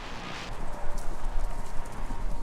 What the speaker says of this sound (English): It sounds like horses. Horses running?